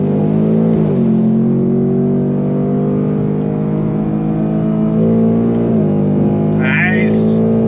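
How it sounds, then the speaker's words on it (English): A 2025 Ford Mustang GT in Intense Lime Yellow pulls hard under throttle, its engine droning loud and steady, rising in pitch through the gears with brief dips at the shifts. Voices talk over the run inside the car. "And then we're gonna go on throttle again"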